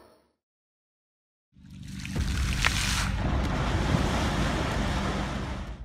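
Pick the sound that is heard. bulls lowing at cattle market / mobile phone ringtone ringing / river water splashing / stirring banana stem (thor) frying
river water splashing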